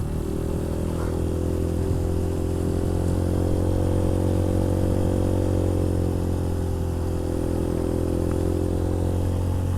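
A motorcycle engine runs steadily and close by on a road under repair, with a strong low drone and a harmonic whine holding throughout, no voices.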